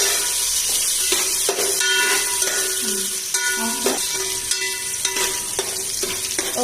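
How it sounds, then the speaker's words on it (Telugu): Onion fries in a pan with oil for a mutton curry, a loud continuous sizzle with clanking utensil strokes against the pan, and a voice speaking now and then over it. "కొంచెం ఆనియన్, దీన్ని అయితే బాగా అయితే ఫ్రై చేసుకోవాలి"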